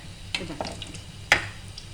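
A tempering crackles in hot oil for a bitter gourd curry, a soft sizzle punctuated by a few sharp pops and stirring clicks, close and without talk.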